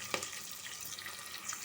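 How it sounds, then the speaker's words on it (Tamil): Biryani masala spices fry in hot oil in a pan, giving a close, continuous hiss and crackle of sizzling with a small pop near the start. "2 குழம்பு கரண்டி அளவுக்கு எண்ணெய் விட்டுருக்கேன். நம்ம பிரியாணி மசாலாலாம் அதை சேர்த்துடலாம். பாருங்க, நல்லா பொரிய ஆரம்பிச்சிருது."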